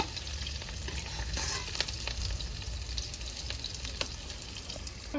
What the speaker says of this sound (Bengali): পেঁয়াজ আমার গোল্ডেন ব্রাউন হয়ে গেছে ভাজা হয়ে গেছে